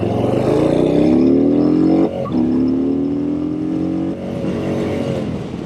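A Harley-Davidson Street Bob 114 motorcycle engine is revved hard up to the rev limiter, with a loud rising drone that holds steady, drops briefly, then climbs again with no speech.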